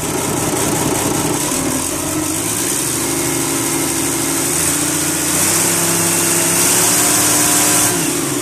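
Fiat-Allis FR12 wheel loader, warmed up, runs its engine up from idle to a steady high rev, a loud continuous mid-pitched drone that holds near and constant throughout with no talk.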